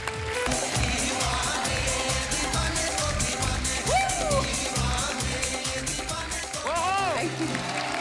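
Studio audience applause welcoming a singer on a comedy talk show, loud steady clapping and cheering under a host's enthusiastic speech, with brief musical flourishes.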